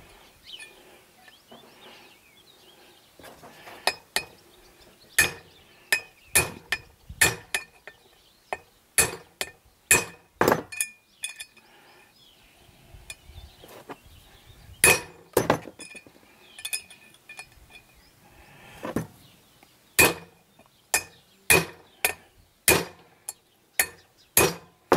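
Sharp metallic taps of a hammer striking a bearing through its old cage to seat it, a long run of separate ringing clinks at uneven pace, some in quick pairs, close and clear with no talk.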